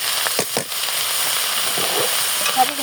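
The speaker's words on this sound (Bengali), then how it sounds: "পেঁয়াজ মরিচটা দিয়ে একটু ভেজে দেবো।" Onions and chillies frying in a pan, giving a soft steady sizzle with a few faint stirring scrapes and crackles.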